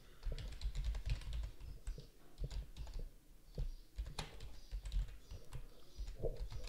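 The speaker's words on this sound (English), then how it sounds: "I will type my name." A name is typed on a computer keyboard in irregular bursts of sharp, close key clicks with short pauses between clusters.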